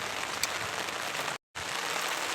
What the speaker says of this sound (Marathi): खूप पाऊस आलाय आता.